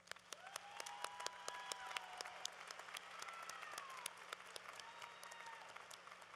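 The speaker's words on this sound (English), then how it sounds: "Let's give them a round of applause." A large commencement crowd at a university graduation applauds, a broad sustained wash of clapping in a big reverberant space with occasional whoops and cheers rising above it.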